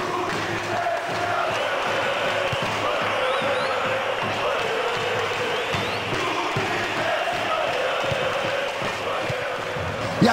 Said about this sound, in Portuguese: E a torcida do Flamengo canta.